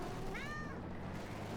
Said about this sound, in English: yes, you did hear meow